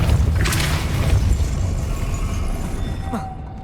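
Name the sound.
Depulso spell cast in Hogwarts Legacy video game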